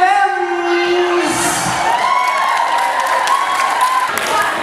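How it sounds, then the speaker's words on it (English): A crowd at a Christmas cosplay gathering in Yorkshire claps and cheers loudly, with whoops and children's shouts mixed in, while a voice talks over the start of it. "give him a massive round of applause"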